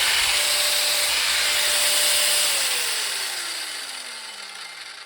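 A Bauer 9 amp surface conditioning tool, a heavy-duty stripping tool, runs with the trigger held: a whining motor hum that holds steady, then winds down in pitch and fades as the speed drops.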